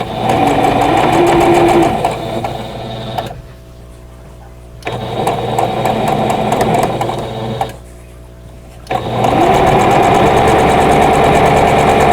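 Sewing machine piecing a Christmas basket quilt block, loud steady stitching runs broken by two short pauses, close by with no talk.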